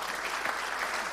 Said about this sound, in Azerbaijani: Alqışlar sizin şərəfinizə